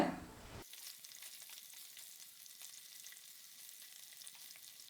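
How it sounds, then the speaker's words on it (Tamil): Quiet, steady crackling sizzle of paneer frying in hot oil, with a faint stirring rustle; no voices. "இதை எண்ணெயில் லேசாக செவந்து வர அளவுக்கு பொறிச்சு எடுத்துக்கலாங்க"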